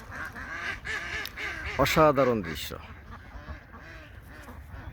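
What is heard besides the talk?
flock of ducks heading into Titas river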